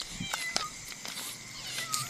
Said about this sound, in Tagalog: Oh, dito na yung mga pusa natin.